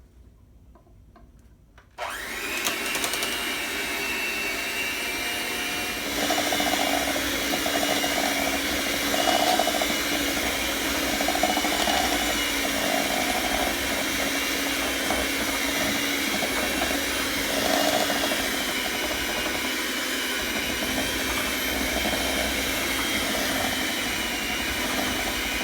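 An electric mixer beats oatmeal cookie dough, starting abruptly after a quiet moment and then whirring loudly and steadily up close, with the motor tone shifting slightly as the soft and liquid ingredients combine.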